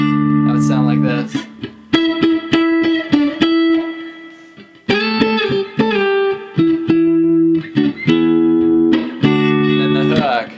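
Electric guitar plays a melody in octaves, jazz-style, with clear, loud phrases of sustained paired notes separated by short gaps, no voices.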